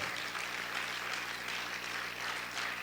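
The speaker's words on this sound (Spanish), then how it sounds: "Vamos a aplaudir fuerte a tu Dios," Steady, sustained clapping from a church congregation fills a large worship hall, an even wash of many hands at moderate level with no talk over it.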